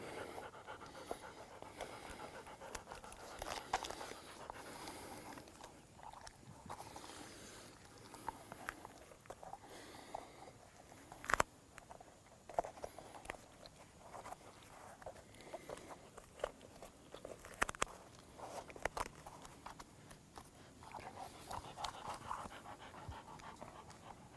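A hunting dog fitted with protective boots pants steadily and close by, a soft continuous breathy rhythm with a few small pattering taps and one sharp brief click near the middle.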